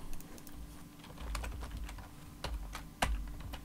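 Keys clatter on a computer keyboard while commands are entered during a DNS server lab, with irregular clusters of taps and one sharper, louder keystroke near the end, close and alone without any talk.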